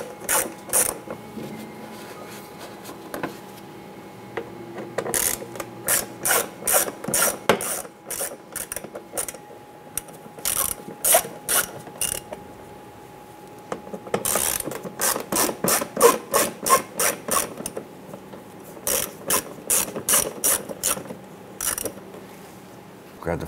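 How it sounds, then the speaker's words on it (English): A ratchet clicks rapidly in repeated bursts while loosening T20 Torx screws on a Nissan Rogue mud flap, sharp close metallic ticking with short pauses between runs. "There are four T20 Torx screws. One, two, three, and there's one on the bottom here. Loosen and remove these."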